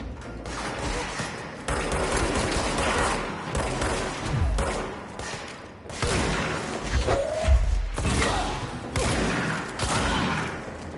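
Heavy gunfire in a shooter video game, dense bursts of shots and thumps running almost continuously with short breaks, loud and close.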